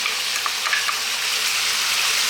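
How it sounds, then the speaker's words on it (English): Chopped onion frying in a hot pan with lamb pieces, giving a loud, steady, close sizzle that hisses without a break throughout. "We're now going to add in that onion,"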